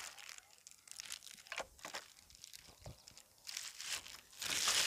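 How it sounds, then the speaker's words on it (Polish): Protective plastic film being peeled off the parts of a Ryobi RBC36X26B cordless brush cutter, giving close, irregular crinkling and tearing rustles in bursts that build to a louder, steady crackle at the end, with no talking. "Możemy ściągnąć folię."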